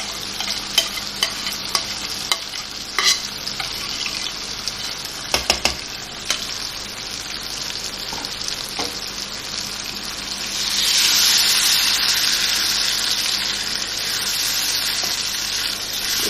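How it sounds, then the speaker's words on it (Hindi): Chicken pieces with yogurt sizzling steadily in a hot pan, with repeated scraping stirs and utensil knocks early on, then a louder, hissing fry near the end; no talking. "इसके साथ इसको थोड़ा सा भूनेंगे"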